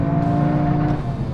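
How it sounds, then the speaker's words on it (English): A Toyota GR Yaris three-cylinder engine and exhaust give a steady, guttural roar with a low throbbing drone, heard close and loud throughout. "And the engine noise, 3-cylinder engines typically sound quite guttural, that syncopated rhythm in the engine noise and the exhaust"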